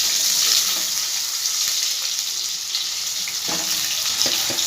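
Potatoes fry in a pan with a continuous hissing sizzle up close, and a few faint knocks and scrapes near the end.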